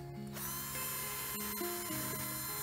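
A cheap hand deburring tool scrapes burrs off the edge of a polycarbonate aquarium lid in close, uneven ratcheting strokes with shifting squeaky tones, with no talking.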